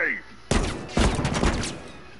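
Bursts of gunfire from a multiplayer match of The Last of Us, with three sharp broadband volleys starting about half a second in and roughly half a second apart, close and loud over a rumbling game background.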